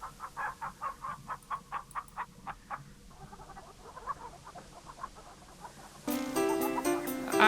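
A steady run of rhythmic clucks from chickens in the King's Quest III remake, repeated evenly at moderate volume, then a squawk and a burst of brighter game sound at the end.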